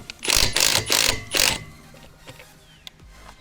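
An impact wrench loosens rear brake bolts on a 2020–2023 C8 Corvette in four loud, rapid hammering bursts in quick succession, then falls quiet apart from faint shop noise and a single click.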